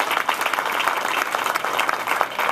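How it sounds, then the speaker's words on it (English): A brief round of steady, dense audience applause at a civic announcement on plans for a new airport terminal, moderately loud and heard alone without talk. "You guys give him a round of applause."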